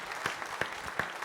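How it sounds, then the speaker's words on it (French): Applause from an audience at the official presentation of Golden Globe Race sailing skippers, a steady patter of clapping with a few sharper claps standing out, moderately distant and without talk. "Applaudissements."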